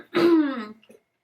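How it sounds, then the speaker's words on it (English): A single short, rough throat clearing up close, ending in a faint low grunt. "did you want me to clear my throat again?"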